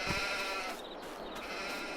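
Sheep bleating in the farming video game Farming Simulator 22, a few animals in a pen calling in a steady, fairly quiet bleat with no talk.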